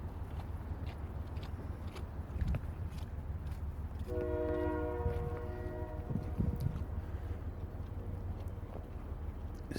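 A CN freight train passes with a rumbling roll throughout, its multi-tone horn sounding clearly for about two seconds mid-pass, while nearby footsteps from squishy shoes thud faintly.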